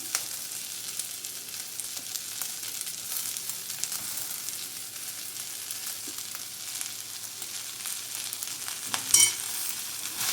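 Dried basmati rice stir-fried in a pan with paneer, mushroom and vegetables gives a steady close sizzle, with light scraping and stirring sounds throughout and no talking.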